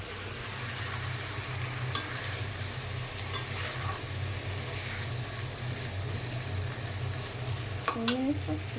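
Goat meat sizzles in hot oil in a wok-style pan, a steady close frying hiss broken by a few scrapes and clinks of stirring.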